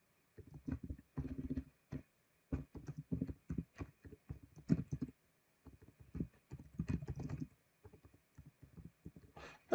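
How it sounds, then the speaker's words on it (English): Steady typing on a computer keyboard, bursts of close, crisp key clicks with brief pauses between runs, heard alone in a quiet room. "my typing skills are not up to par, as you can see"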